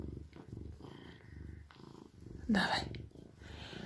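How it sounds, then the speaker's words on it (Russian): An Oriental cat purring, a low steady rumble running beneath nearby conversation, with a brief louder burst partway through. "Да, ну в принципе он мурлычет."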